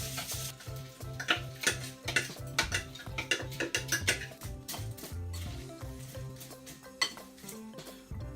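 Cornflakes are stirred around in a bowl for a cheap torta setteveli base, giving a busy run of rhythmic scraping and clinking against the bowl, steady and close with sharper knocks throughout.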